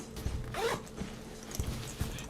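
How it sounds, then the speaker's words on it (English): A heavy-duty zipper on a travel backpack's main compartment is pulled open in one close, raspy run of short ratcheting zips, with no talking. "Next zipper we got, these are heavy duty zippers on this thing."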